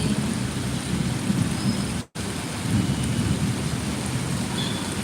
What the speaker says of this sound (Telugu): ఇప్పుడేమో ఫుల్ వర్షం పడుతుంది